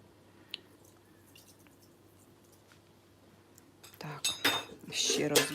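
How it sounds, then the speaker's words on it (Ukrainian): Spoon clinks and scrapes in a pot of soup broth while stirring, quiet at first and then a loud stretch of clattering, sloshing strokes toward the end. "перемішую"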